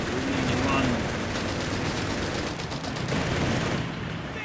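Machine gun fire in Company of Heroes 3, a World War II strategy video game, a dense continuous rattle of shots and battle noise under a commentator's voice.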